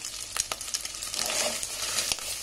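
Ginger frying and being stirred in a pan with taro (arbi) for a Rayalaseema-style curry: steady broadband sizzle with several sharp scraping strokes of a spoon against the pan, close and fairly loud, no talking.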